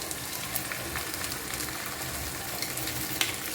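Egg mixture poured over bread sizzles in a frying pan, giving a dense, continuous crackling hiss close up, with faint pops and no talking.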